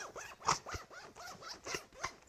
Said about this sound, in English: We can do a little zipper test here.